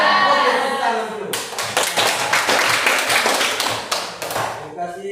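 A group of students in a classroom clap their hands together, a burst of sharp, uneven claps that swells and then tapers off, with voices audible over the start.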